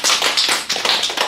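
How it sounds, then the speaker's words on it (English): Brief, close burst of audience clapping at a school homecoming telethon, sharp uneven claps in quick succession for just over a second. "Applause for them, please."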